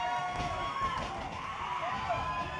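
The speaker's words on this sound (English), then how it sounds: "Crowd going wild for Luke." Wrestling crowd at an OVW live TV show roars continuously throughout, a dense wall of cheering and shouting with scattered whistles, loud and sustained with no clear pauses.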